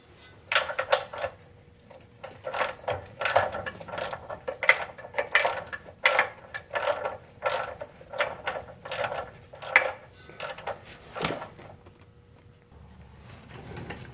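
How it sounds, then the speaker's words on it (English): Metallic ratcheting and clicking bursts come in quick repeated runs while bolts are backed out of a Ford Super Duty V10 4x4's 4R100 transmission, close and fairly quiet over a low room hum, with no talking. "I'm going to go ahead and pull this bolt out the rest of the way on this side."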